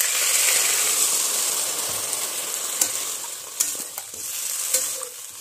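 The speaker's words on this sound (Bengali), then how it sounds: "আমি এবার এটাতে একটু জল দিয়ে দিচ্ছি।" Potato and breadfruit curry frying in a pan, a steady hiss of sizzling oil with scattered stirring scrapes and small splashes as water goes in, close and fairly loud, no talking.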